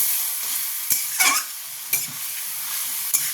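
Potato, drumstick and tomato curry sautés in a pan with a steady, close sizzle, broken by several sharp scrapes of stirring. No voices are heard.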